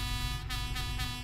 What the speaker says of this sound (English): air horn. Very nice. It is very loud and brash, just like a horn should be.